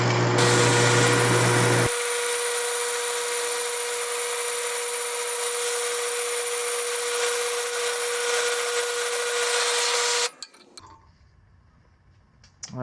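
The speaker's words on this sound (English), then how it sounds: "I might have drilled it a little too far up" A power drill boring into a Sur Ron Light Bee flag mount runs as one loud, steady whine for about eight seconds, then cuts off sharply, leaving near-silence.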